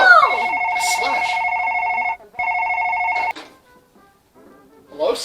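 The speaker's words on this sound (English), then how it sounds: "Answer the phone!" A telephone rings with two long electronic trill bursts separated by a short gap, loud and close, followed by quiet and a brief rustle.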